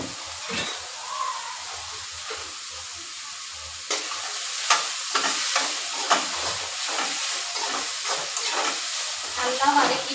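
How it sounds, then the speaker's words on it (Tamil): Onions and green chillies with a little rock salt sauté in a pan, a steady hiss and sizzle broken by scraping stirs at irregular intervals, fairly quiet. "வெங்காயமும் பச்சை மிளகாயும் சேர்த்து போட்டு நல்லா வதக்கிக்கலாம்."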